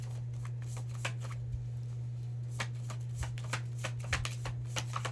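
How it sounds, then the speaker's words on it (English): Cards riffle and snap in quick bursts, a deck being shuffled repeatedly at close range over a steady low hum. "we're gonna shuffle this deck"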